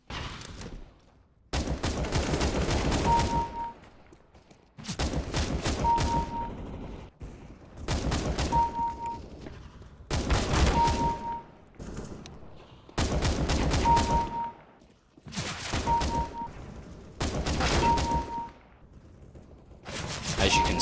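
An auto sniper rifle in CSGO fires rapid bursts, loud dense volleys of gunfire repeating in several long stretches separated by short pauses, with no one talking over them.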